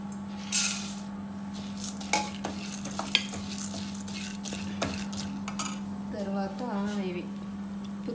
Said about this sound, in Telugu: ఇప్పుడు నూనె కాగాక ఒక్కొక్కటి వేసుకుందాం